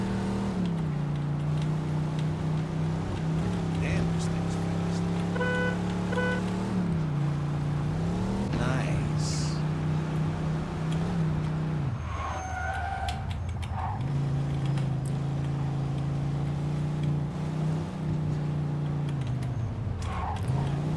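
A car driven in Mafia 2 as the player steers into a spot and breaks through a fence: a steady engine drone that rises and falls with shifts and revs, with a few bumps and scrapes midway.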